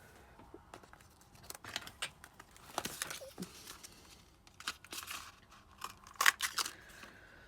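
Paper being punched with a We Are Memory Keepers tab punch: a few soft crunching clicks and rustles of paper handled close by, with a sharper punch near the end.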